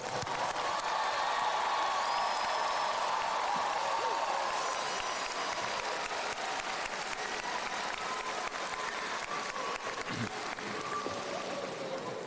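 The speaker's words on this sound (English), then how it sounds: "One more round of applause," Steady applause from a large crowd at a high school graduation ceremony, dense clapping sustained at an even level throughout with a faint murmur of voices beneath.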